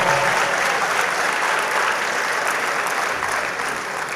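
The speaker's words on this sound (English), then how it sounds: "So we are sending a special applause to her" Audience applause at a 2022 graduation ceremony: sustained, dense clapping from a large crowd, steady and loud throughout with no talk over it.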